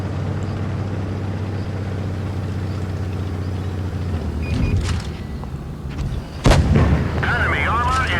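Tank cannon fire in the mobile game World of Tanks Blitz, with a KV-1S heavy tank nearby: a sharp, loud blast lands midway through a steady engine drone, with fainter game effects around it and a voice briefly over the action.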